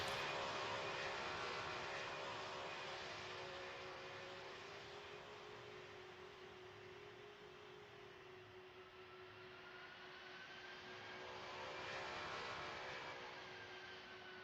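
A Roblox Pilot Training Flight Simulator airliner on its landing approach, producing a continuous broadband jet roar with a whine that swells and fades, faint and distant, with no one speaking.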